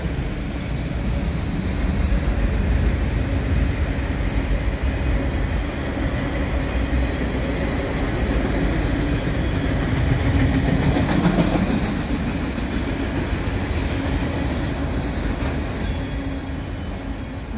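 A CN ES44AC locomotive leads a mixed freight train with a long line of auto racks past Dorval in Montreal, a steady, loud rolling rumble that holds evenly throughout with no voices.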